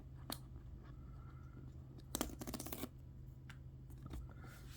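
Cardboard packaging for a Vantrue Nexus 5 (N5) dashcam being peeled and pried open, with a few sharp tearing crackles and a brief burst of rapid scraping rips near the middle, close and fairly quiet over a steady low hum.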